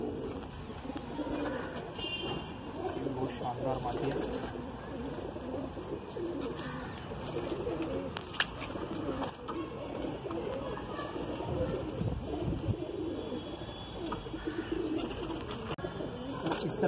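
White Madrasi pigeons cooing together in a loft, a low steady murmur of overlapping coos running throughout, with someone speaking briefly over them.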